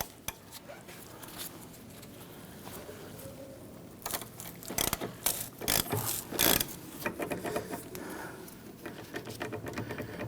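A caliper bolt on a 1999-2004 Jeep Grand Cherokee rear brake being turned out with a number 7 Allen key, a close metallic clicking and ratcheting that builds into a dense run of clatter with a few sharp knocks.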